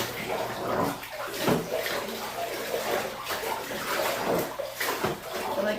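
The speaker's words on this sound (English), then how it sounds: "Stir it." A spoon stirs water to wash a synthetic wig, giving continuous swishing and sloshing with soft rhythmic surges and no speech.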